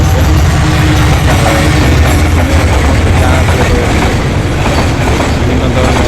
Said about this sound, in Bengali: এখন একটি ট্রেন আসতেছে, আপনারা দেখেন। ওই ট্রেনটা হলো মালগাড়ি।